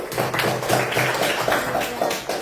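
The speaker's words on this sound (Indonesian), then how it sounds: "Tepuk tangan untuk" Classmates clap hands for a student in a classroom, a steady burst of many overlapping claps sustained for a couple of seconds.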